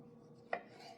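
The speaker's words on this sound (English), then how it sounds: "I'm just going to take this one tomato and we're going to cut off kind of that goofy little part right there" A knife slicing through a fresh tomato for a tomato, basil and mozzarella salad makes a single short, crisp cut against a board, faint and close in an otherwise quiet room.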